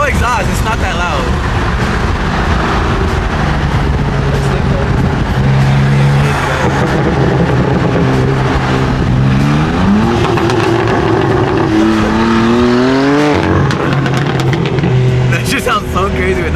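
A loud car engine with straight-piped open exhaust revs and roars continuously with a harsh, raw exhaust note at a JDM car meet, pitch climbing and dropping through several rev sweeps.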